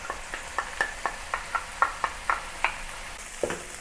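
Pork and mushrooms frying over medium heat for zha jiang mian sauce, a soft sizzle broken by regular scrapes of a spatula stirring the pan, close and fairly quiet.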